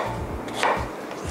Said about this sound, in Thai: แล้วก็หั่นให้เป็นชิ้นเล็กลงอีกเช่นเดียวกันค่ะ